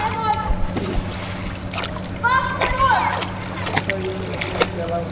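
Water splashing in a swimming pool, close and uneven, with children's and adults' voices talking over it.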